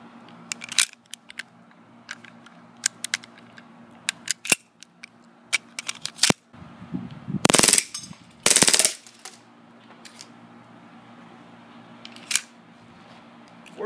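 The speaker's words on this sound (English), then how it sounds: "Working full auto. It's been a while since I had that on a KWA Glock, but it is awesome." A KWA Glock G26c gas blowback airsoft pistol fires mostly sharp single shots with scattered clicks, then two brief loud full-auto bursts in the middle, recorded close with no speech.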